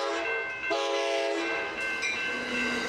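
A Surfliner passenger train passes close by, its horn sounding in loud, sustained chords that swell, dip briefly and return over a steady rumble of rolling cars. No voices are heard.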